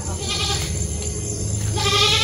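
A goat bleats close by, a wavering nasal call that swells, pauses briefly, then rises again, loud and alone.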